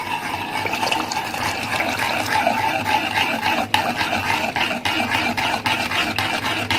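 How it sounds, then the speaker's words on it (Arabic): A spoon stirs starch into an apricot paste mixture in a pot, with continuous close wet scraping and sloshing, plus a few sharper knocks against the pot, and no talk. "اقلب على طول عشان النشا ما تعملش معايا اي تكتلات"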